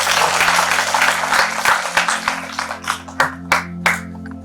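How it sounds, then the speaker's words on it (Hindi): Audience applause welcoming an invited woman dignitary to the stage at a seminar, dense clapping that thins into a few scattered, separate claps toward the end, over a steady low hum. "आप सभी से एक बार फिर निवेदन करूंगा कि आप तालियां बजाकर माननीय मैडम का स्वागत करें"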